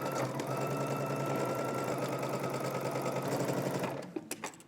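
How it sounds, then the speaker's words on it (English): Sewing machine stitching a DVF V2000 wrap dress, a fast, steady mechanical whir for about four seconds, then stopping with a few short clicks and knocks. "You're gonna backstitch and break your thread, and then we're gonna move up to the next marking, backstitch again, and then continue sewing."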